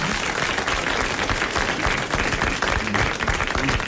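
Applause from a studio audience at a 1982 French television show, thick and sustained clapping filling the room throughout at fairly loud level, with no voices on top.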